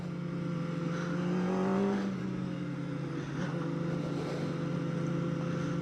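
A 2024 Kawasaki ZX-4RR motorcycle engine held high in the revs while riding, a steady, dense drone with a brief rising pitch sweep, loud and continuous with no talking over it.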